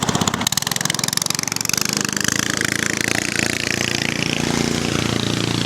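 Motorboat engine running on the Sangu river on the way to Remakri, a steady, loud droning hum with a rapid buzzing pulse that continues throughout, with no voices.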